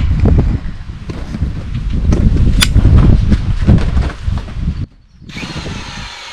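A power drill runs loudly and close, boring a pilot hole in wood with a steady grinding whir for several seconds, then stops abruptly and leaves quieter outdoor background noise.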